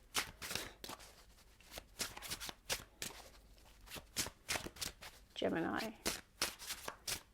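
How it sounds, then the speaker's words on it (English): Deck of tarot cards being shuffled by hand in quick repeated riffling bursts, close and crisp, with a person speaking softly between shuffles. "Giving them a good shuffle."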